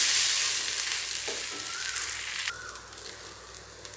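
An adai dosa fries on a hot pan after being flipped, giving a continuous close sizzle and crackle that eases slightly in the second half.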